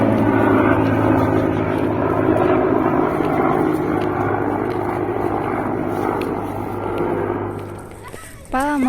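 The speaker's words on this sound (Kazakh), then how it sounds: "вертолет кетіп жатыр." A helicopter flies away outdoors, its steady engine drone and rotor hum loud at first and fading gradually, with people talking over it near the end.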